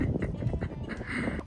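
A man imitates a wild turkey's call on a farm, giving short, nasal gobbling and yelping bursts in quick succession, fairly faint and close.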